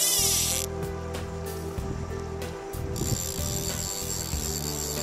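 Fishing reel drag ratcheting in bursts while a 16-inch rainbow trout is fought on a light 2-weight fly rod at a ranch stream, close and steady, with a faint buzz and background hum underneath.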